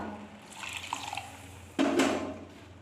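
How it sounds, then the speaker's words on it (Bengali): Water is poured in quick splashing bursts into a cooking pot, faint at first, then a louder, fuller pour near the end. "এবার আমি এর মধ্যে একটু জল দিয়ে দেব"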